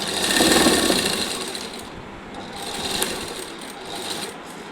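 Sewing machine stitching a short nighty, running in a steady, fast mechanical whir that eases slightly in the middle, with brief pauses in the rhythm, heard up close and alone.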